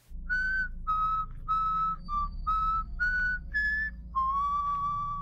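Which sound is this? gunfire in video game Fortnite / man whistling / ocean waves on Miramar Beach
man whistling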